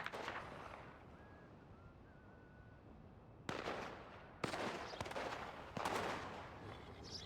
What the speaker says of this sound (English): now there's just gunfire, probably people dying in the background